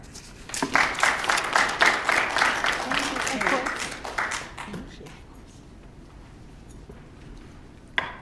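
An audience at a lecture on Ezra-Nehemiah breaks into steady, full applause with dense clapping that swells and then tapers off over several seconds, followed by a voice speaking.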